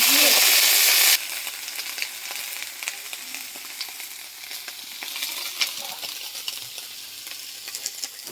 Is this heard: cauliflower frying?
yes